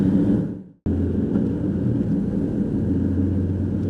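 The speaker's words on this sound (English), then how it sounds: "I can hear the intake more than the exhaust" Camaro 3800 V6 with a 5-speed manual, the intake sound louder than the exhaust, droning as a steady low rumble while driving, with a brief gap near the start before the hum resumes.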